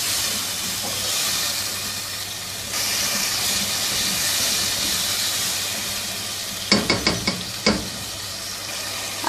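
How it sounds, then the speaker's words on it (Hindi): A cup of peas and two medium potatoes frying in a pot for a Pakistani aloo matar pulao give a loud, steady sizzle and hiss, with a few sharp clanks of stirring near the end. "1 कप मटर, 2 दरमियाने साइज़ के आलू, 2-3 मिनट अच्छी तरह से भून लेंगे।"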